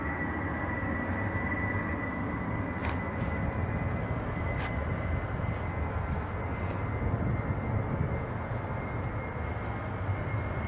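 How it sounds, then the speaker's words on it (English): A Ryanair airliner rolls for takeoff to Milan at Manchester Airport, a steady broad engine roar that holds at an even, distant-sounding level throughout with no talking. "Next to go is Ryanair to Milan, rolling now."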